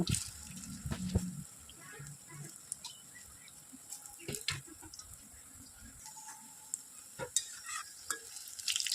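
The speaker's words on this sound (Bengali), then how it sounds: "তারপরে এখানে বড়াগুলোকে লাল করে ভেজে নেব।" Fritters (bora) deep-frying in well-heated oil in a wok over a medium flame: a steady, soft sizzling hiss, broken by a few brief clatters and stirring knocks.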